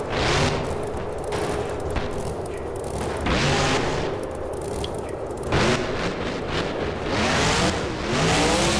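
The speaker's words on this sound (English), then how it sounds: "the truck puts it into a donut" Monster truck engine in the BeamNG video game roaring and revving hard while spinning a donut in a Monster Jam freestyle, loud continuous growl with repeated surges and rough bangs over about nine seconds, no talking.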